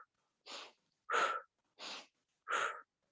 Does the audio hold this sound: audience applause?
no